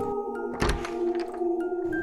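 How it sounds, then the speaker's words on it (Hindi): Door opening sound effect: a dull thunk of a latch or heavy door giving way, followed by faint creaks and soft movement over a low steady hum, close and fairly quiet. "अंदर से दरवाज़ा खोलने की आवाज़ आई"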